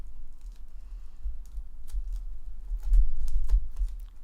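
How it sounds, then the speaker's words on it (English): A blade cutting around the corner of a plastic-wrapped 4K movie box, giving faint, close, irregular ticks and crinkles over a low rumble, with no talk. "I would just try to cut around this corner here so that I can leave the plastic on there"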